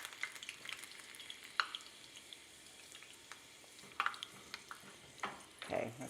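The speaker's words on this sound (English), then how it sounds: "you have to be really quick about this because it does fry up very quickly" Food fries quickly in a pan during preparation of maple-glazed roasted root vegetables, a soft close sizzle broken by a few sharp clinks and stirring scrapes.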